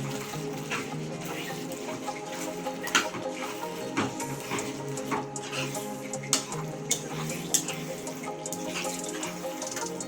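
Spoon stirs fried cabbage manchurian into a street-style gravy in a pan, with continuous soft sizzling, wet mixing and occasional metallic clinks against the pan.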